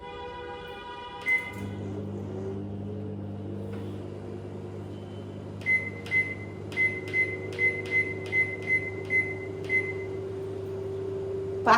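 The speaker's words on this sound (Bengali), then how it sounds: "এটাকে আমি 5 মিনিট মাইক্রো ওভেন 5 মিনিট দেবো মাইক্রো ওভেনে" A microwave oven runs with a low, steady hum while rabri cooks inside. Control-panel beeps come early, followed by a rapid series of about ten short beeps as the timer is set, and a clunk right at the end.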